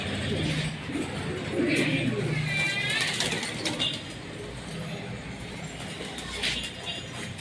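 Pigeons coo softly amid a flock, with wing flaps and someone talking over them.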